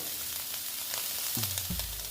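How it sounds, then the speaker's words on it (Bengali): Food sizzles steadily in a hot pan, a close, continuous crackling hiss with a couple of brief low clunks near the end. "এটা প্রায় ভাজা হয়ে গেছে"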